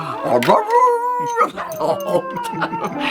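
A dog howls at piano practice, long wavering drawn-out howls with a few yips, loud and close, alongside other voices.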